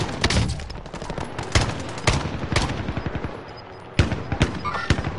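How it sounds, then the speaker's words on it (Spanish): Shotgun blasts in a shooter video game, fired over a long distance, sounding as sharp separate reports spaced a second or so apart over a constant busy background of game noise. "Le estoy disparando con escopeta desde aquí hasta allá."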